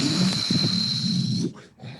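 A person snoring in an unusual, harsh style, one long rattling, nasal snore held for over a second before breaking off into a brief snort, close and loud with no talk.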